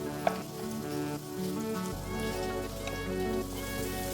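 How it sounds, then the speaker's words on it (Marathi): Spices and ground masala sizzling as they fry in oil for a prawns masala, a steady close hiss with crackly texture throughout and a low hum underneath. "तेलावर आता हे सर्व मसाले आपण परतून घेऊया"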